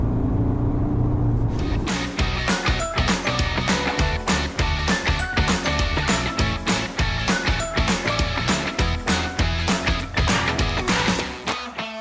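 2017 Skoda Fabia 1.4 TDI Monte Carlo, three-cylinder diesel, heard as a loud, close, steady engine note with sharp rhythmic knocking pulses that fade slightly near the end, no talking.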